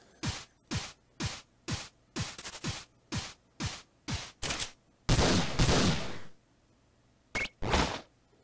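Gunshots in the pixel-art video game Iconoclasts: a rapid series of about a dozen sharp, evenly spaced shots, then a longer noisy blast and two final shots, crisp and alone.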